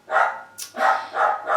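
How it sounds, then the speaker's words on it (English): Dogs bark indoors, four loud, close barks in quick succession, sharp and yappy, with no talking over them. "Excuse my dogs."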